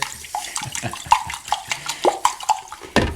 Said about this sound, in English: Generally, I fill up my jar, splash it around really good,